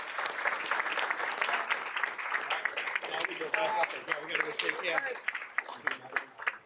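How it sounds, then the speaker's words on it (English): A school board meeting audience gives students a big round of applause, dense clapping that fills the whole stretch at moderate level, with a few voices mixed in. "Please join me in giving them a huge, well-deserved round of applause for their accomplishments."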